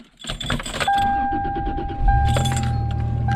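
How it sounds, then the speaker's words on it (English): A truck engine turns over and catches at a remote winter campsite in Nevada desert country, with a key jangle first, then the motor settling into a steady low idle close by. "Get in this truck, hopefully it starts."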